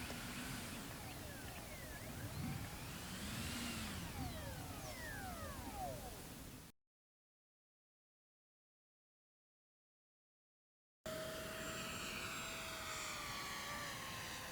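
An E-flite Airbus A320neo twin 64mm EDF model airliner flies overhead with a steady ducted-fan whine that sweeps up and down as it passes. A brief silent gap interrupts it before a steadier, higher tone returns.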